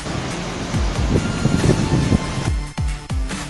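Khone Phapheng, a 21-metre waterfall of fast, churning Mekong water over huge rock ledges in Champasak, southern Laos, roars as a dense, constant wash, broken by heavy wind buffeting on the microphone near the end.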